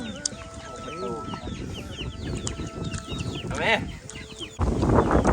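Chickens cluck and squawk nearby in an ongoing farmyard chorus, with a person speaking briefly among them.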